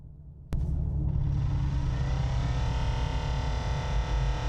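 The ventilated seat fan in a new Dodge Charger EV switches on abruptly after a moment of quiet and whirs loudly with a rising tonal whine, holding steady and close until the end.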